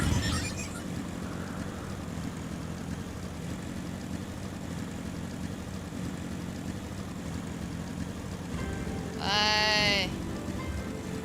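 A single sheep in a video game (Final Fantasy XIV) bleats once near the end, a wavering cry over a steady low engine-like drone that fills the whole stretch.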